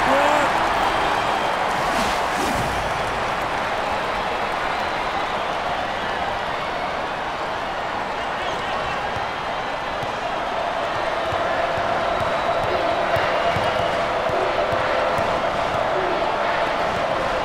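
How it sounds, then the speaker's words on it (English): A basketball crowd at the SEC tournament roars in a large arena, a sustained dense wash of cheering and shouting that carries on throughout, with a commentator talking over it. "Listen to the crowd."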